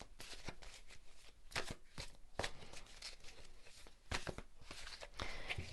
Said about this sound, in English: We'll draw from the Art of Manifestation Oracle cards.